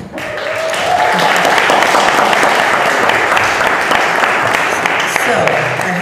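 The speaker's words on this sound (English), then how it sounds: "Another round of applause for them." Applause for a panel at a climate leadership summit in Scandinavia: a crowd claps loudly and steadily after a brief rise, sustaining a dense wash of hands with a few louder claps near the front.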